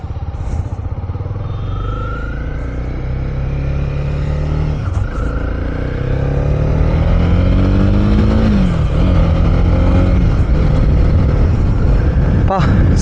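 Honda CB300R BS6 300cc motorcycle riding with a loud, continuous engine drone close by, revs rising and falling through gear changes, with wind rush and no talk.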